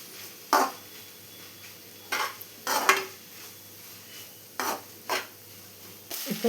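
A soya roast mixture with onions being stirred in a pan, soft scraping strokes of a spoon arriving in short separate bursts over a faint steady sizzle, close and fairly quiet.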